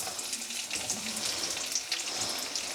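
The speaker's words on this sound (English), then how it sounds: "Into the pan, I'm adding half of an onion." Half an onion cut into cubes sautéing in a pan for a Kerala-style vegetable stew, giving a steady, moderately faint sizzle and frying hiss with no talking.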